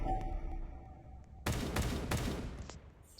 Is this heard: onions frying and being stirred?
no